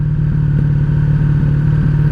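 A 1984 Honda Sabre VF1100S motorcycle idling high, a loud, close, steady engine drone with even rapid pulsing and no change in revs, no talking.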